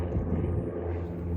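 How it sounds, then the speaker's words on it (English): An airplane passes overhead as a steady, dull low rumble, moderately loud and unchanging across the short stretch, with no voices over it. "Sorry for the plane."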